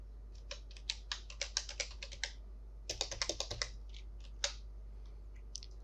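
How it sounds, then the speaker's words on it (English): Typing on a computer keyboard, quiet close clicks in quick irregular bursts with short pauses, over a faint low hum. "Then type in your username and create a password for your account."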